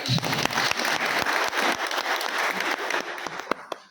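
Audience clapping at a Gopeshwar seminar, loud and close, with many hands clapping rapidly in a dense burst that thins out toward the end into a few scattered, sharp final claps.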